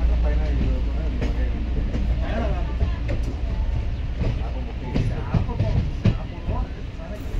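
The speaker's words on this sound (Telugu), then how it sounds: "ఫ్రెండ్ వచ్చేసి ట్రైన్ దిగుమెట్ట రైల్వే స్టేషన్ నుంచి అయితే డిపార్చ్ అవుతుంది." Inside a Guntur express train pulling out of Diguvametta railway station, a steady rumble with rhythmic clacks and creaks of the carriages continues throughout, close and fairly loud.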